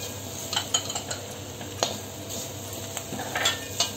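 Ajwain, hing and spices fry with onions in oil for Kathiyawadi dal dhokli, a low steady sizzle broken by sharp clinks and scrapes of a spoon stirring against the pan.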